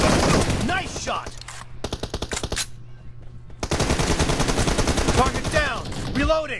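Game gunfire in PUBG, dense bursts of automatic fire rattling close and loud, broken by a short near-silent gap before the shooting resumes in rapid volleys.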